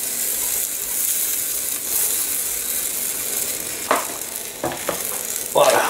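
Tomato sauce gently sizzling on a thin pizza base in a frying pan, a constant soft crackle with a few sharper scraping clicks toward the end.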